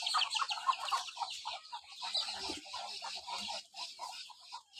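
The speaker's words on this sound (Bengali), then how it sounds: "তো এই দেখেন আমাদের হাঁস মুরগিগুলো" A flock of backyard ducks and chickens clucks and chatters in a dense, overlapping stream, moderately close but fairly quiet, with no speech.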